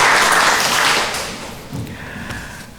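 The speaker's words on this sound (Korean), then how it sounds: "박수로 환영하도록 하겠습니다" A church congregation at a Sunday worship service in Mexico claps briefly to welcome visitors, a close burst of applause that fades quickly within a few seconds.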